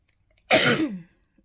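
A single sharp, close cough, brief and forceful, in otherwise quiet surroundings.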